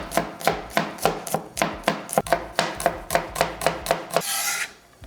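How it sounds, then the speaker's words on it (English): Rapid, steady knife chops as garlic cloves are minced on a board for callaloo, about a dozen crisp close strikes in even rhythm, ending in a brief scraping sweep of the blade. "garlic is a must, so I'm mincing a couple cloves."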